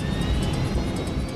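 Airliner engines roar at full takeoff power, a dense, steady jet rumble with a thin whine riding on top, loud and continuous with no voices.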